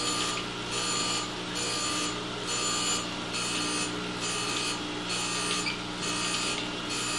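A softer grinding wheel rough-grinds a steel squaring block, giving a steady high, dense abrasive whine with a pulsing, rhythmic sweep roughly every half second, alone without talk.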